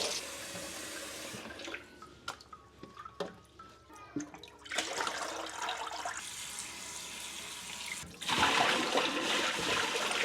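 Water draining and running while a container is rinsed, with scattered clinks and trickles at first, then a steady rush of flowing water that grows louder toward the end.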